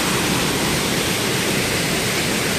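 Small waterfalls along a bush creek pour in a steady, close, broadband rush of falling water with no voices.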